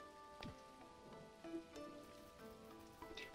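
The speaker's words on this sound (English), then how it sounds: "we don't have to water today because the rain is doing it for us" Rain falls steadily in the farming and survival game Dinkum, a faint, even patter with soft game-music tones ringing over it and a few light clicks throughout.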